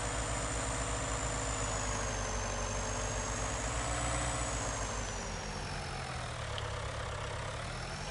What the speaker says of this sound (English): As you can see, I totally know how to drive a tractor.